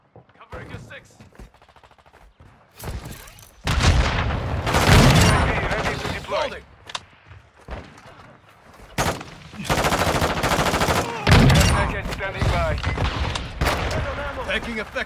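Call of Duty gunfire in loud bursts of rapid automatic shots and booms, broken by quieter gaps, mixed with game voices talking.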